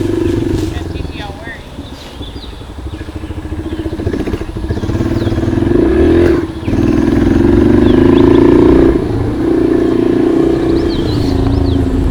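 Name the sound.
motorcycle riding around a field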